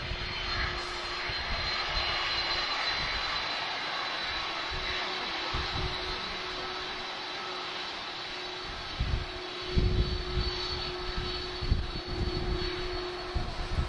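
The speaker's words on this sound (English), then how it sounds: "Have we got a biz jet on the move as well?" A business jet at Lisbon Airport taxis and spools up for takeoff, its engines giving a steady, fairly loud roar with a sustained tonal hum, heard outdoors at a distance with some wind buffeting.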